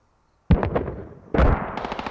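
Mortar rounds in the military shooter Squad go off as two sharp, heavy blasts a moment apart, each followed by a rumbling, crackling tail.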